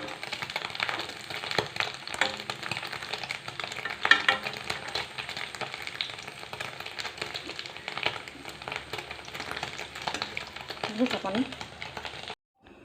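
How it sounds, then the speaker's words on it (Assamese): Small pieces of paneer frying in a little oil in a pan, a steady close sizzle with stirring scrapes and light clatter throughout, ending abruptly. "পনীৰখিনি এনেকৈ অকণ তেলত"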